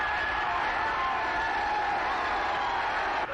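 A boxing arena crowd cheers and applauds wildly as fighters enter the ring, a dense, continuous roar of voices and clapping sustained at full loudness throughout.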